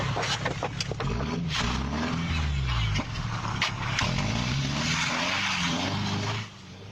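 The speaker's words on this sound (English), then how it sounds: "the truck crashed into their stairs and then did donuts in the parking lot" Pickup truck doing donuts in a church parking lot after crashing into the stairs, engine revving in repeated surging waves with tire scrub and squeal, captured by a surveillance camera at moderate distance, ending abruptly.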